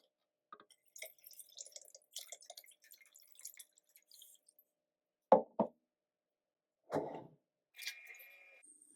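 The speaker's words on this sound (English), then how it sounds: "we're just going to let this drain out a bit" Water draining out of an orchid pot filled with pumice, heard close and quiet as a few distinct drips and small splashes among soft scattered trickling.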